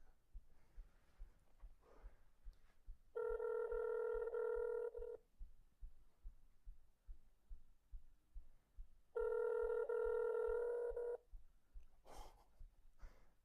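A ringing tone sounds on an outgoing mobile phone call: two loud, steady tones each last about two seconds, with a long pause between them and faint rhythmic thumps underneath.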